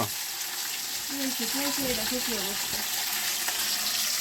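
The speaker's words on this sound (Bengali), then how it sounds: "এরপরে দিয়ে দেব হচ্ছে যে মাছের মাথা। একবারে ভেজে নেব আমি।" A fish head frying in very hot, spattering oil makes a dense, loud sizzling hiss throughout, while a voice speaks briefly in the middle.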